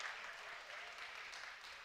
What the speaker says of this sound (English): Give him a round of applause if you would.